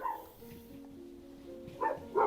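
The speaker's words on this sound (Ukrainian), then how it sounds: "Тому що вони гавкають" Dogs bark and yip a few times at a distance on a rural farmstead, faint and sporadic, with a louder bark near the end over quiet background.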